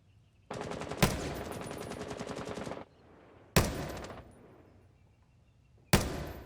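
Video game gunfire: close, loud sustained automatic bursts, first a long one, then a shorter burst and a third beginning, each opening with a sharp crack and separated by quieter gaps.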